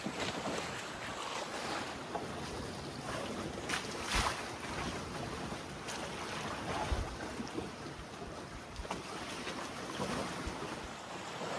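A sailboat moves through open water with constant wind rushing across the microphone and waves splashing against the hull.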